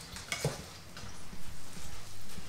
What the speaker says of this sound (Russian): Добавляю рис. Перемешиваю.